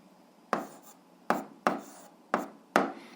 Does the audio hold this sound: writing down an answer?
yes